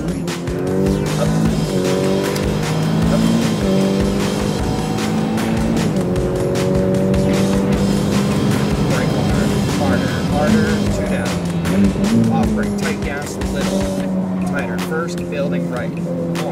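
A sports car is driven hard around the Speedvegas race track, its engine revving up and down through gear changes with some tire noise. A voice can be heard talking over the engine throughout.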